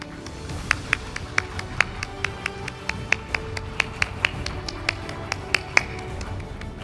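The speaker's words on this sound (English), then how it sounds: "Please welcome Her Excellency with a big round of applause." Scattered, sparse hand claps ring out one at a time in a reverberant room, like a small audience applauding at a forum opening ceremony in Seoul.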